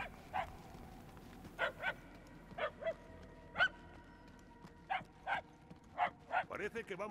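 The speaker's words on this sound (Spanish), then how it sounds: "Al menos los ladridos suenan más fuertes" Dogs bark in short spaced bursts in the Guardians of the Galaxy video game, growing a little louder toward the end, with soft game ambience and occasional talk.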